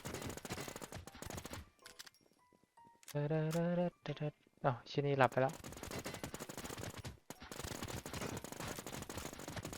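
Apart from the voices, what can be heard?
gunfire from a video game, gun sound mod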